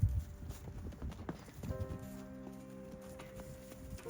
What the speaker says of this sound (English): a Palomino mare was driving around a couple of the other horses